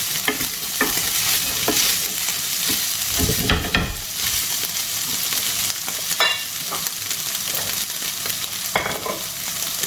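Mutton pieces fry on a hot tawa with a continuous, close sizzle, while a spatula scrapes and stirs in irregular bursts against the metal surface throughout.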